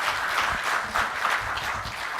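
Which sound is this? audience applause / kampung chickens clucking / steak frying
audience applause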